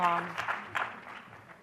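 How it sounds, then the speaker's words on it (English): Audience applause at a medical society town hall, a brief burst of clapping that swells and then thins out, with a voice speaking over the start. "So give him a round of applause."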